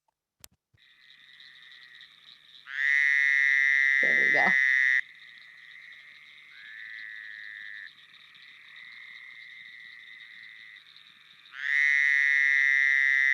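A calling frog gives a loud, buzzy, drawn-out bleat like a trapped sheep, repeated in sustained bursts over a steady background chorus, with a brief spoken remark partway through.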